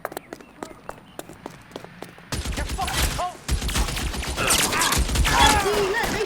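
Gunshots in an L.A. Noire vice-case shootout: sharp, evenly spaced cracks at first, then a sudden switch to a loud, dense, chaotic barrage of overlapping fire.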